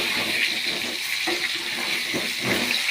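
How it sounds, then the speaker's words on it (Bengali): Potatoes frying in hot oil give a steady, fairly loud sizzling hiss throughout, with no talking. "আলুটা ভাজা হতে থাক বন্ধুরা।"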